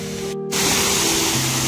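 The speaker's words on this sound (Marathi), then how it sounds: "हा धबधबा पाहू शकता." Savdav waterfall roaring as a steady, loud broadband spray, briefly cut by a moment of near-silence before the rush returns continuously.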